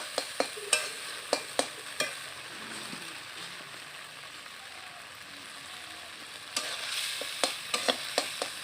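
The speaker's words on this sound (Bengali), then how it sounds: "মশলাটা কষানো হয়ে যাচ্ছে" Spice masala fries with a soft, steady sizzle in a pan while a spatula taps and scrapes against the metal in quick clusters of sharp strokes, close by and quiet, with a pause in the stirring midway.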